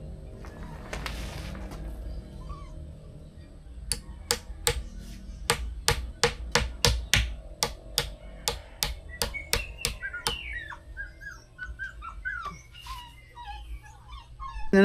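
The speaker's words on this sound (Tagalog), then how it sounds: "Ingay ng aso." A dog makes a rapid series of sharp, loud barks or yips in the middle, followed by softer whimpering whines that trail off, with faint background noise.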